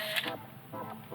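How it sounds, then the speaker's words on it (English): A Minolta Freedom III point-and-shoot film camera fires its shutter with a short, fairly loud mechanical click and soft whir, followed by faint winding mechanism sounds, close up with no talking. "I also like the sound of the shutter."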